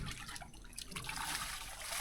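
Water trickles and splashes steadily while someone washes at a drinking-water well in the middle of a rice field in the Lao countryside, a continuous close wet babble over faint outdoor noise.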